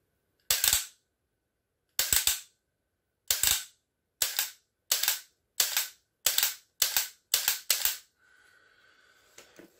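Sharp dry-fire trigger clicks from a pistol fitted with a Mantis Blackbeard X trigger reset, one lone shot followed by a quick string of about nine evenly spaced clicks, then a faint hum.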